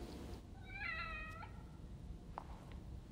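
A house cat gives one clear, close meow, a short tonal call standing out against a quiet background hiss, followed by faint light clicks.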